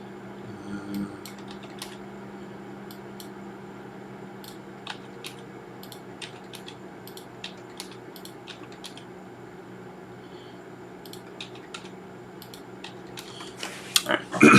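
Copy-paste shortcuts are tapped on a computer keyboard, producing scattered, quiet key clicks in short bursts over a low steady hum, with a louder clatter of keys near the end.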